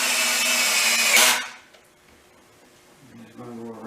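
A power drill drives a deck screw into wood for a tree stump coffee table, whirring loudly for over a second before winding down, then a brief quieter spin-up follows.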